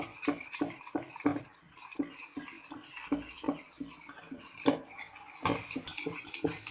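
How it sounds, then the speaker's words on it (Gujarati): Khaman batter is stirred in one direction in a mixing bowl, giving a run of quick metallic clinks and scrapes with short pauses between strokes. The sound is close and fairly quiet. "અને એને બરાબર મિક્સ કરી લઈશું એક જ ડિરેક્શનમાં મિક્સ કરવાનું છે"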